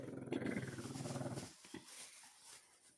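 A dog growls in a low, continuous rumble while being handed treat sticks, close and fairly loud. It gives way to a few softer growls and small chewing or movement sounds, with no talk over it.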